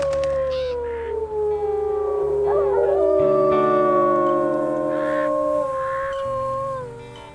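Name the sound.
wolf howl in WolfQuest video game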